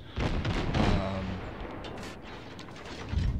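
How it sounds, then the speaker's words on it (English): Naval gunfire from warships in World of Warships, with a deep booming salvo followed by a rumbling roll of distant blasts and a further heavy thud near the end, all fairly muffled. "I think the ship I'm actually currently firing at is the one I destroy."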